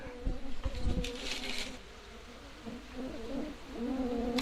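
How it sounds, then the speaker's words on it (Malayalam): Stingless bees buzz close around their wooden colony box while the colony is being split, with a wavering drone, several near flybys and a faint bird coo in the background. "പൂമ്പൊടിക്കായിട്ട് ഈച്ച വന്നേ പെട്ടെന്ന് കയറിയത്"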